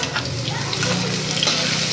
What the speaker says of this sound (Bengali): এবার ভালো করে সবজিগুলো ভেজে নেব